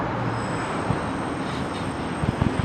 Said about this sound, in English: So a train there, that's the actual line where we come in from Blackpool and it goes out to Manchester Airport.